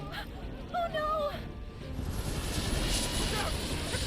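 A helicopter in Final Fantasy VII Remake Intergrade, a steady rotor and engine roar rising in the second half after game character voices and chatter at the start.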